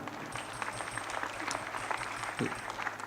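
Audience applause at an Islamic boarding school graduation and anniversary celebration, a steady, moderately loud wash of clapping that continues evenly throughout.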